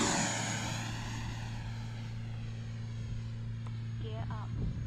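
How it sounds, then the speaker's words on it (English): An E-flite Viper RC model jet plane flies past with a steady, droning whine and hum that fades slightly over a few seconds, fairly faint and distant with no talking. "the more I fly this plane, the more fun I have with her"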